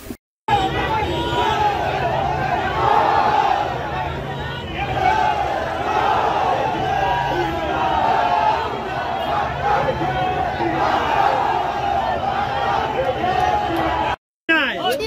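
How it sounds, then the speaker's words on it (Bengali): A crowd of protesters in a street demonstration chants anti-Bangladesh slogans, loud rhythmic massed voices rising and falling over a steady babble, continuing for about fourteen seconds before cutting off abruptly. "ওই সময় বিক্ষোভকারীরা বাংলাদেশ মুর্দাবাদ স্লোগান দিতে থাকে"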